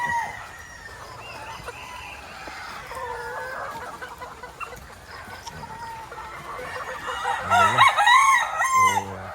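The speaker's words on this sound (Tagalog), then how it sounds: "Tilaok na, oh." A rooster crows loudly near the end, over a steady background of farmyard birds and other distant crowing, among gamefowl in San Pedro, Laguna.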